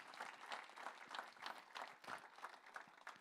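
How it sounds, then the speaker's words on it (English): An audience at an FFA Blue and Gold gala claps in faint, distant applause with a loose, rhythmic patter throughout. "Let's give them a round of applause."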